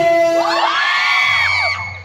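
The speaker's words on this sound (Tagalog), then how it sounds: "Mukhang nakikita mo talaga ang lakas ng sigaw." A crowd at a school wrestling match shouts and cheers in a loud, close burst of overlapping whoops and yells, rising and then tapering off over about two seconds.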